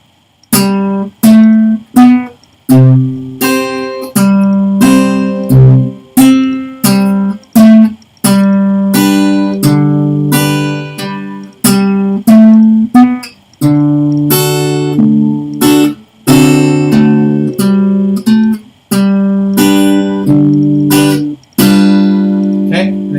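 A guitar plays a full rhythmic part alone, with steady strummed chords and picked notes ringing clearly and close, pausing briefly between phrases.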